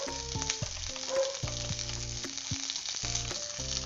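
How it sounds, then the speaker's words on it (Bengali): Sweet potato pieces sizzling in a little oil with fennel seeds in a wok, a steady close frying hiss broken by intermittent clanks and scrapes of stirring, with no voices. "কড়াইয়ে অল্প তেল দিয়ে মৌরি ফোড়ন দিলাম, তারপর রাঙা আলুগুলোকে ছেড়ে দিই"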